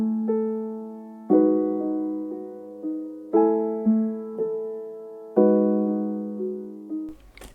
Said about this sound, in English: We then have this second piano, which is a more chill piano.